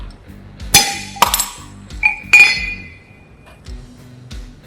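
A brass computer-key padlock is struck repeatedly in a strength test, giving several sharp metallic clinks and clangs with short ringing tails, spaced irregularly and close to the listener, with no talking.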